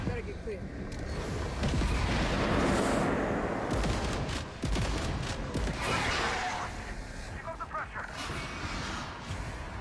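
Grenade explosions in the sci-fi shooter Alien: Rogue Incursion, heavy booming blasts and crackling bursts in quick succession, loud and dense throughout, with gunfire-like impacts layered over a rumbling low end.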